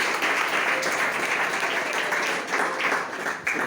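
Church congregation applauding, a dense continuous patter of many hands clapping at once, fairly loud and even throughout with slight dips near the end.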